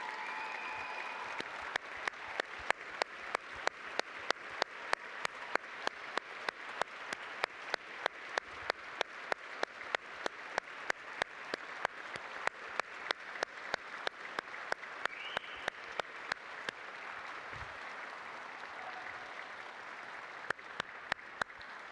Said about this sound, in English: A big round of applause for Sophie and Caitlin.